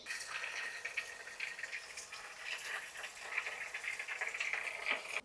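Water is poured from a container into the tank of a GROWNSY Deepclean baby bottle cleaner, making a steady, close splashing gush that runs on for several seconds with no talking.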